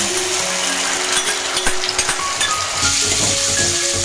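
Cauliflower manchurian with chopped capsicum and sauce frying in a pan gives a close, steady sizzle, with occasional light clinks and scrapes from stirring.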